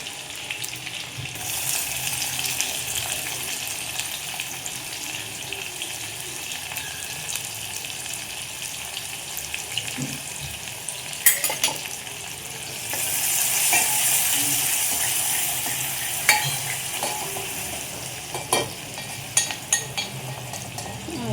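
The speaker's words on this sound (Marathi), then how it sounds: "त्यात लगेच आपण कांदा टाकून घेऊ." Chopped onion sizzles steadily in a hot pan while wild shevla greens cook for a bhaji, with spoon scrapes and stirring knocks breaking in now and then, close and fairly loud, no voices.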